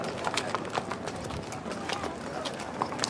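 Horse hooves clip-clop along at a walking pace in a lighted horse parade in Barnes, Kansas, amid outdoor crowd murmur, with scattered faint chirps and voices in the background.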